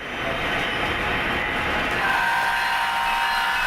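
A model train runs on a realistic layout above an antique barn, giving a steady, continuous rumbling clatter that stays loud and even throughout, with no voices.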